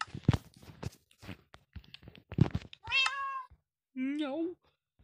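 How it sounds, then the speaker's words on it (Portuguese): A cat meows twice, each a clear drawn-out call close to the microphone, following a stretch of rapid speech from a person talking beforehand. "O gato tá miando"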